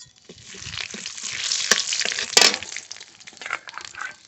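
Nigella seeds and a bay leaf sizzle in hot mustard oil in a kadai, giving a soft, uneven frying crackle with a few sharp pops, close and fairly quiet.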